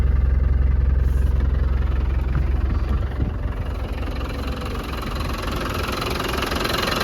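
The 300Tdi diesel engine of a 1995 Land Rover Defender runs steadily at idle, a low rumbling drone with a faint knocking texture, close by and continuous with no talk.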